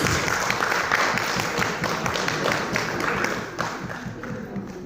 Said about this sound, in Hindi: तालियां बंद नहीं होनी चाहिए प्लीज।